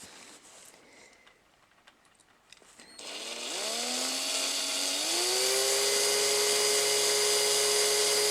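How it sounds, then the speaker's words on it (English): After a few quiet seconds, a small power drill spins up with a rising whine, then runs loud and steady at high speed, drilling small holes in a Hot Wheels Ford Escort RS1600 model car. "What they're doing is drilling all of these front little holes up here."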